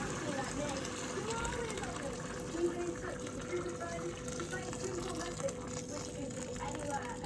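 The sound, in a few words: hot water poured into rice in pot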